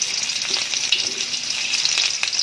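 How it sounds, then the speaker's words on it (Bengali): Chopped onion frying in hot mustard oil in a wok gives a steady, close sizzle that hisses evenly throughout, with faint crackles and no voices. "আমি কড়াই বসিয়ে এর মধ্যে সরিষার তেল দিয়ে দিয়েছি। এবার আমি পেঁয়াজ কুচি দিয়ে দিব।"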